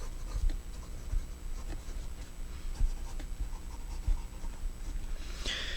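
A Lanbitou 776 Black Twist fountain pen nib scratches softly across paper in a steady, quiet writing rhythm, close and alone with no talk.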